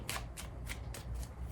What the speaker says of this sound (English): Why am I shuffling?